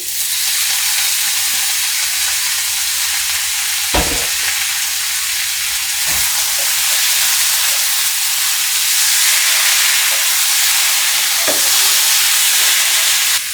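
Mixed vegetables for a Bengali vegetable ghonto sizzle and fry steadily in a pan, a loud continuous hiss broken by a few sharp scrapes and knocks of a spoon stirring, with no talking.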